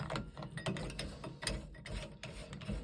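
A retaining ring being fitted onto a Delta shower cartridge, with close, dry clicking and ratcheting plastic-on-metal ticks and rubbing scrapes in an irregular run.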